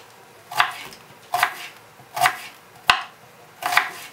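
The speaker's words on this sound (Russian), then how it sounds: "Лучок нарезаем кубиками." A knife dices onion on a cutting board in five sharp, evenly spaced chops, close and clear, with no talking.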